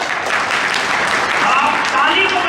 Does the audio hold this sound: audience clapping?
yes